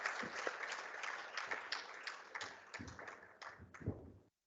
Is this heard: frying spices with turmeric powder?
no